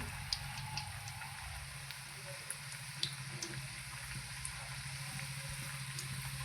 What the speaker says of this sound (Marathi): आता अशाच पद्धतीने आपण सगळे पावड आहेत ना तेवढे तळून घेऊ